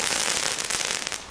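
Rapid crackling Belgian firecracker bursts, loud and close, popping in a dense irregular stream with a few sharper bangs near the end.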